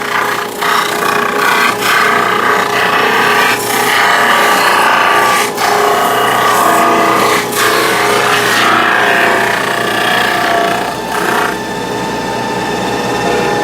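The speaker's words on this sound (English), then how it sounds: "we're going to go ahead and just sand the surfaces of these a little bit on my drum sander" A drum sander grinds across the surfaces of wooden sign pieces with a loud, continuous abrasive roar and steady motor hum. Rhythmic rasping swells mark each pass, heard up close with no talking.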